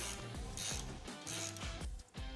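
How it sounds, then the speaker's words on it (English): A 14 mm socket ratchet loosens the factory mounting bracket on the rear bed step of a Toyota Tacoma, producing fast repeated clicking ratchet strokes, close and clear, with no talking. "Using a 14 millimeter socket, remove the factory mounting bracket from the factory rear bed step."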